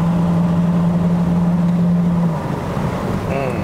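Peugeot 508 1.6-litre turbo THP engine held at about 5000 rpm, a loud, steady in-cabin drone that holds for a couple of seconds and then drops away as the revs ease off.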